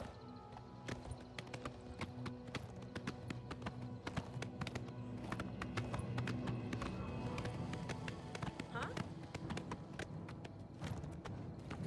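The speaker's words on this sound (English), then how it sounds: "Hopefully I can still ride my horse." Hooves of a ridden horse clip-clop in a rapid, steady galloping rhythm in the Oblivion Remastered video game, moderately quiet, with no talking.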